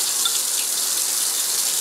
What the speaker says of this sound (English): you can go ahead and rinse everything with the cold water